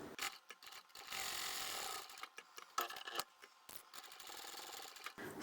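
A sewing machine stitches the internal pocket of a crossbody satchel bag in several bursts of fast mechanical whirring, separated by short pauses and soft handling noises, close and moderately quiet.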